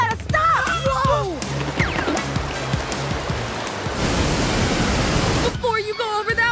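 A rushing cartoon waterfall in PAW Patrol roars as a dense, loud wash of noise, broken up by animated characters' excited voices and music at either end.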